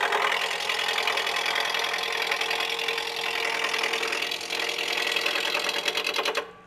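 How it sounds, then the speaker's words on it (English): A wood lathe spins a spindle-oriented blank between centers while a spindle roughing gouge cuts it, making a continuous close whirring hum with a rough cutting texture that stops abruptly at the end. "Right now I'm using a spindle roughing gouge,"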